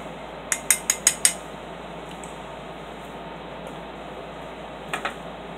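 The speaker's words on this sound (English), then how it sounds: "I mix up the muesli and the cold drink" A spork stirs muesli in a drinking jar, making a quick run of five sharp clicks and scrapes near the start. Two softer taps come later, and the handling is close with no talk.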